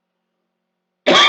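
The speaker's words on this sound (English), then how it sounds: "Sorry about my coughing," A single harsh cough bursts in loud and close after a second of silence, short and raspy.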